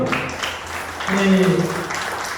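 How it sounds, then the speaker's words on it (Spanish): A church congregation applauds for the Lord during a worship service, with a continuous wash of clapping running beneath a loud voice that talks over it. "Dame un aplauso al Señor"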